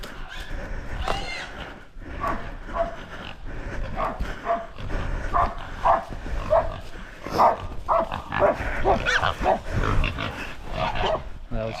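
Hunting dogs bark, snarl and yelp in a frantic close-range melee while catching a wild hog, with the pig squealing among them and people's voices mixed in throughout.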